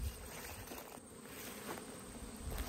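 Honeybees working in the top of a backyard hive in autumn, a faint, continuous low buzzing hum close by, steady without pauses and with no voices.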